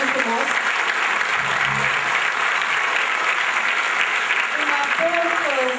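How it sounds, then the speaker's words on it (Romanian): A concert audience applauds steadily after a Viennese-style winter holiday concert, dense continuous clapping filling the hall, loud and sustained throughout with a few brief tonal sounds on top. "Vă rog frumos să-l aplaudăm."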